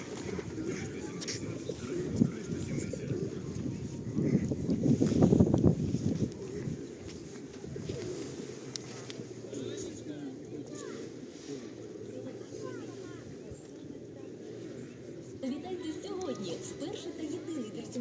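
Pigeons coo softly and repeatedly in the background while people wait and talk nearby outside a spa pump room in Truskavets, with a swell of fluttering activity partway through.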